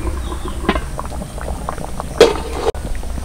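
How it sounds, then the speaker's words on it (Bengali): A covered pot of taro and potato curry bubbles at a low simmer, with soft, scattered pops and gurgles close by and one brief louder splash near the end. "কচু আলুটা সিদ্ধর জন্য কিছুক্ষণ ঢাকা দিয়ে দিচ্ছি"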